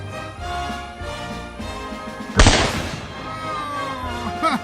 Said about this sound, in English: Here's Trey with the 30-30 Winchester for the Tannerite.